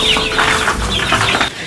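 Sonali chickens, a desi-like breed, cluck steadily on a farm, their close, overlapping clucks and calls filling the space without pause.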